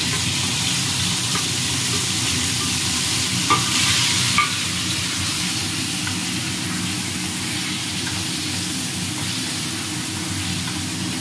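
Marinated chicken fries in a pan on a gas stove, giving a steady, loud, close hiss and crackle of oil with occasional stirring scrapes and no talk.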